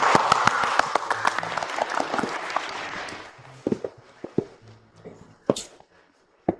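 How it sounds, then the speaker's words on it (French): Audience applause as a new company president is called up to make an announcement, a full burst of clapping that fades after a few seconds into scattered individual claps and quiet room sounds. "Merci d'applaudir bien fort."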